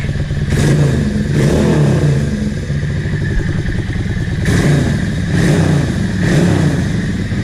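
A Yamaha XVS650 motorcycle engine idles loudly nearby with a steady mechanical clatter, and the throttle is blipped into several short revs spaced a second or two apart.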